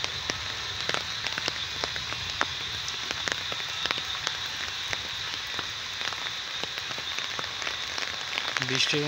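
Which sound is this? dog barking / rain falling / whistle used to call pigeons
rain falling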